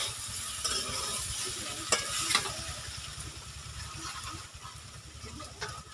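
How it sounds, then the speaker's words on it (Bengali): Papaya and potato curry fries in a pan as water goes in, a continuous close sizzle with a few sharp splashes and clinks, and a low rumbling hum beneath; no one speaks. "এখন জল দিয়ে দেবো"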